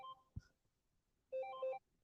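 A telephone gives a short electronic ringtone, faint and brief, with a chirp before it and quiet in between.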